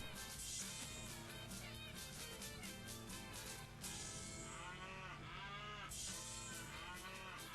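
Cows mooing in the video game Tasty Planet Final Bite, a few stretched calls rising over a dense, loud game soundtrack that runs the whole time.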